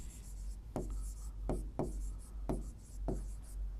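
Numbers being written by hand during a maths lesson on rational numbers: five sharp, scratchy strokes spaced about a second apart, close and clear, with no one speaking.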